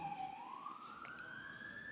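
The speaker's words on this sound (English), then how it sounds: "let the sirens go" A wailing siren sweeps steadily upward in pitch, loud and continuous over a constant background hum.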